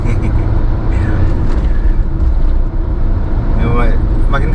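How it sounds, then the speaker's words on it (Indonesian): Engine rumble of a truck driving close behind a vehicle on a mountain road toward Ijen, steady low drone with people talking over it. "Tapi di belakang ini kita dikejar-kejar truk."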